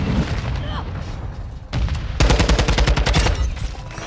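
A Taq 56 rifle in Call of Duty MW2 on the Shipment map fires a long rapid burst after a single earlier shot, loud and dense, with a voice talking over the match.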